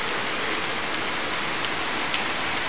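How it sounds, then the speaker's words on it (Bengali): Heavy rain pours on a Bikrampur village, giving a thick, constant rushing hiss with scattered sharper drop taps on nearby surfaces and no voices. "দেখেন অনেক বৃষ্টি পড়তেছে,"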